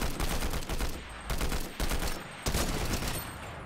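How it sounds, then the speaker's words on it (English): Bursts of rapid automatic gunfire in a Fortnite firefight, loud and close, coming in several sharp volleys separated by brief gaps. "They are shooting at us, actually."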